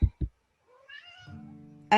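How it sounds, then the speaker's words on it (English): A cat meows once, a drawn-out wavering cry that rises and falls. Two short thumps come before it, and a brief loud burst cuts in at the end. "You hear an ominous meow."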